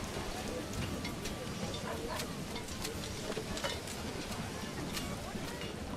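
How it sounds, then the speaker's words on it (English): Steady rain ambience in the medieval city-builder game Manor Lords, a continuous hiss of falling rain with scattered droplet patter throughout, even and moderately loud, with no talk heard. "The rain effects are nice"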